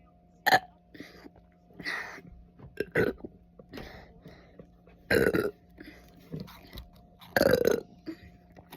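A person burping loudly several times, in irregular bursts of deep, rough belches separated by short pauses.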